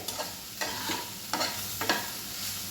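A snack mixture lightly roasted in a pan, with soft sizzling and several distinct stirring scrapes spaced about half a second apart, close and quiet, with no voices.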